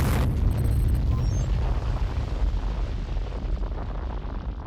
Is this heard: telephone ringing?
no